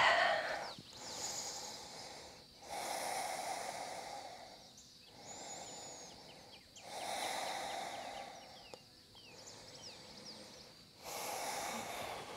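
Slow, deep breathing during a yoga high lunge, with several long audible inhales and exhales in a steady rhythm, soft breathy hiss close to the mic, no speech.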